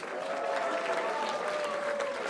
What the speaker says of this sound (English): Everyone give a big applause.